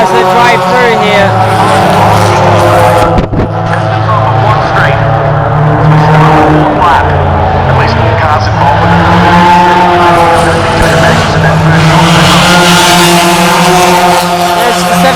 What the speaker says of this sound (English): Let's see if there's any damaged cars that drive through here.